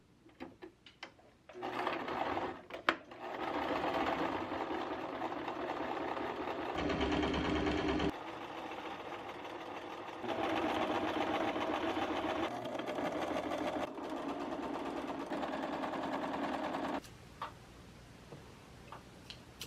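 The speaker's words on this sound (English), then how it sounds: "I'm gonna get ready and just sew the seam all around the pillowcase" A sewing machine stitches a seam around a pillowcase, running in steady whirring, ticking bursts separated by short pauses, close and fairly quiet, with no talking.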